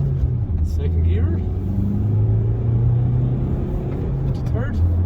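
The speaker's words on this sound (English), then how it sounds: "We'll accelerate from first up a hill" A 2017 Honda CR-V 1.6 diesel accelerates from first gear up a wet hill, its low engine rumble steady and close from inside the cabin while someone talks over it.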